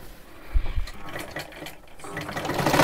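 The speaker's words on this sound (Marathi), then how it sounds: "आता हे आपल्याला अशा सरळ लाईनीमध्ये हे शिलाई करत करत घ्यायचं आहे" A sewing machine runs a straight line of stitching on salwar fabric, whirring steadily at close range with a faint rhythmic mechanical hum.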